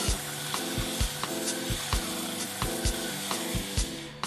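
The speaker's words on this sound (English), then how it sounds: "I moved on to cleaning up the faces with the sanding belt" A belt disc sander works across the face of a wooden board, giving a steady broadband abrasive rasp with regular rhythmic bumps as the board is pushed and pulled along the belt, close and continuous.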